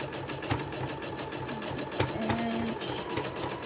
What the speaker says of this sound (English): I'm going to sew it one more time